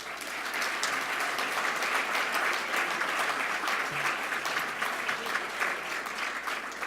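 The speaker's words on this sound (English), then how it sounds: "Let's give them a round of applause." A large audience applauds steadily, a dense wash of many hands clapping at even loudness throughout.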